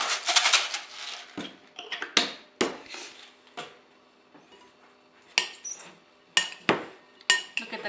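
Fresh black pepper cracks out of a hand grinder for a quinoa tabbouleh salad, a string of close, sharp, crisp gritty crunches in short irregular bursts with quiet gaps, no talking.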